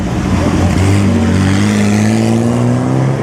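A big Ferrari racing car climbs a hill at the Mille Miglia, its engine loud and close, holding a steady, rising note as it pulls past.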